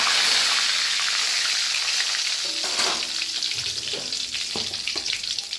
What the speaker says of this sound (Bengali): কড়াইতে সর্ষের তেল নিয়েছি এর মধ্যে একে একে শুকনো লঙ্কা তেজপাতা ফোড়ন দিয়ে নিচ্ছি